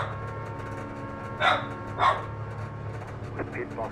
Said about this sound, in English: Oh, it set off the dog.